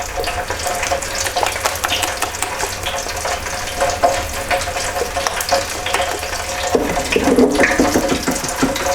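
Onion ring batter with bicarbonate of soda and citric acid is stirred thoroughly in a bowl, making continuous close wet swishing and sloshing with a brief louder splash near the end.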